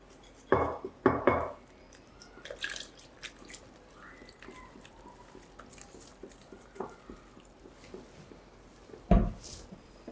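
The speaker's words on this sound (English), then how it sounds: "Then we will combine the wet with the dry ingredients." Wet and dry pancake batter ingredients being mixed in a bowl: soft scraping and dripping broken by sharp clinks of a utensil against the bowl, loudest in a few knocks near the start and again near the end.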